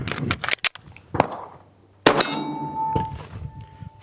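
Shots from a pistol at a range, several sharp metallic reports in an irregular sequence with a loud crack near the middle, ringing clangs of steel targets following each shot, close and without speech.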